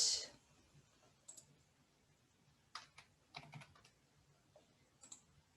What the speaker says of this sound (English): you can type out a title